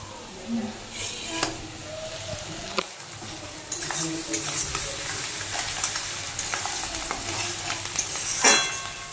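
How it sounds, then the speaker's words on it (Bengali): Onion fries in a pan with a steady, close sizzle, broken by a few sharp clinks of a utensil against the pan and occasional stirring. "আর পেঁয়াজটা এই যে ভাজা হচ্ছে"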